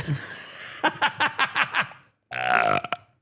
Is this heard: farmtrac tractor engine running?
no